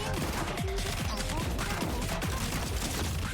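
Rapid gunfire from the student Maki in Blue Archive rattles continuously through the clip, a dense stream of shots mixed with game effects and background music.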